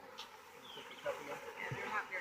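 Faint buzzing of honeybees with a few louder passes close by, under soft background murmur.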